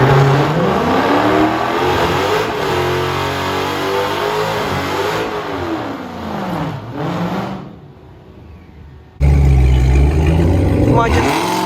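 A loud supercharged Dodge Charger Hellcat engine with a stock blower revs hard at a track, its pitch climbing through gear changes, then briefly drops away before roaring back up.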